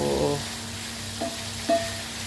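Chicken gizzards for adobo sauté in oil with a constant crackling sizzle, a faint steady tone underneath and two brief clinks of a utensil against the pan.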